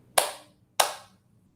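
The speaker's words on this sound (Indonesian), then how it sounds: "saya akan contohkan dengan tepuk tangan" Two sharp, close hand claps spaced evenly about a beat apart, demonstrating half-beat rhythm notes for a music reading lesson, each with a short decaying ring in a quiet room.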